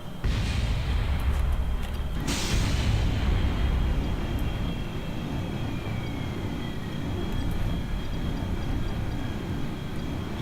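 Steady, loud engine drone of a propeller warplane in an aerial combat video game, continuous throughout with a brief rushing swell early on and a faint whining tone sliding across the top.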